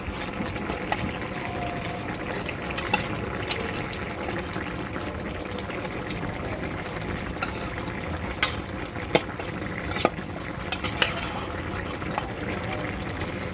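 Fish frying in hot oil in a pan makes a continuous bubbling sizzle, broken by small clicks and knocks as it is stirred. No voices are heard.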